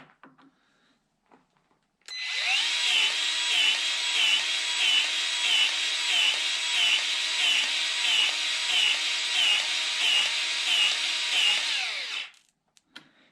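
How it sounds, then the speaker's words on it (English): Powered grease gun forcing grease into a fitting on a cheap brush hog, a loud, steady motor whine with a fast pulsing rhythm. It starts abruptly, runs about ten seconds and then cuts off. "Maybe now we can force some grease through this thing."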